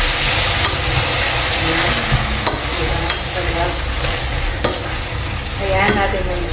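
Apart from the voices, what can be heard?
chicken and tomatoes sautéing and being stirred in a pan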